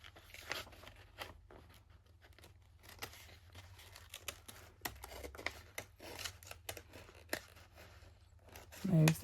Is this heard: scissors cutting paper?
yes